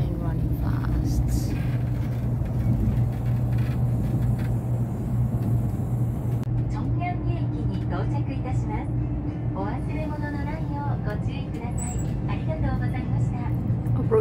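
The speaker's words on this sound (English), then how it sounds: "Train running fast." A KTX high-speed train runs fast between Seoul and Pyeongchang, Korea, with a steady low rumble and hum from inside the carriage that holds for the whole stretch. Faint voices are heard in the background.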